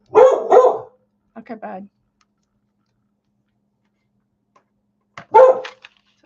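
A small, protective pet dog gives a few sharp, close barks in short bursts separated by quiet, with a person speaking briefly in between.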